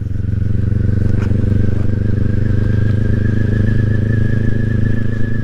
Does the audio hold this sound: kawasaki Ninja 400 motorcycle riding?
yes